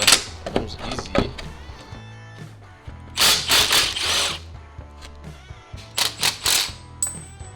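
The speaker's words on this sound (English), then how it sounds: "We're going to get rid of this 12mm bolt and hope that it comes easy." Tools working a 12mm bolt loose from an off-road steel bumper on a Lexus GX470, with bursts of ratcheting and whirring close by, short mechanical clicks and clanks between them, and no speech.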